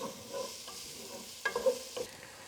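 Onions cooking down in a pan over raised heat give a faint, steady sizzle under a few short scraping stirs toward the end, with no voices.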